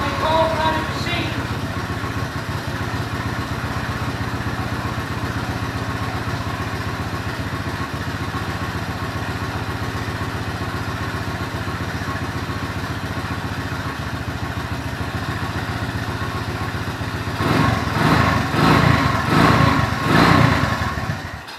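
A motorcycle engine fires and settles into a steady, loud run, climbing to a harsher, clattering revving near the end.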